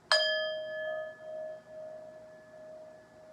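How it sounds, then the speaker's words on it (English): A single bell is struck once, its clear tone ringing out loud and close before decaying slowly over a few seconds with no other sound around it. "I'm going to ring my bell, though."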